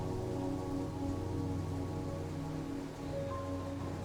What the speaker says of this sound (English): The sound of rain gently pattering against the roof fills the air.